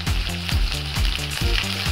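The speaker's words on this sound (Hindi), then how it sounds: "और अभी इन सारी चीज़ों को हम अच्छे से फ्राई कर लेंगे" Chopped onion, French beans, green peas and other vegetables frying for vegetable pulao, a steady close sizzle with rhythmic stirring strokes in the pan throughout.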